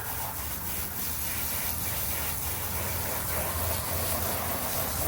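A new cast net spread on a fence is rinsed, likely with a hose: a steady, fairly close broadband rush of spraying water that runs unbroken throughout, with light scrubbing texture and no talking.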